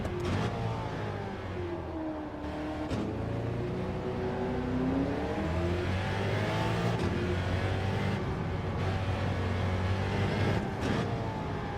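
A race car engine in Gran Turismo 7, revving continuously with rising and falling pitch through gear changes, loud and steady across the whole stretch with brief shift dips.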